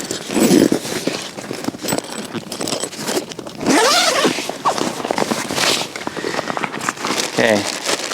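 Heavy zippers on an Aquaglide Blackfoot 130 kayak bag are pulled open, mixed with crinkling and rustling as the bag is handled close by.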